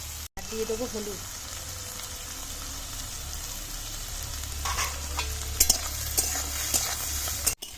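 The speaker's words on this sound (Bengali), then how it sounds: "এবার চিংড়ি মাছটা তেলে দিয়ে দেবো" Prawns sizzle and crackle in hot oil with a steady hiss, a few sharp clinks of stirring, and a brief voice at the start.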